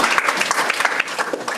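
A roomful of people at a school board meeting breaks into loud, sustained applause, many hands clapping densely and close by without pause.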